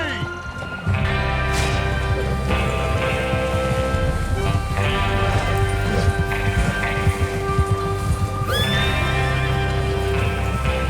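Horses whinny and snort amid clattering hoofbeats and outdoor ambience in Red Dead Redemption 2, with sporadic voices in the mix.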